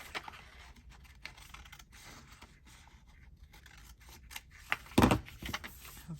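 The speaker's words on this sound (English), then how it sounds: "I need to trim off a bit here." Scissors snip paper trimmed for a single scrapbook page with double pockets, soft scraping and small cuts at close range ending in one louder snip, with no talk.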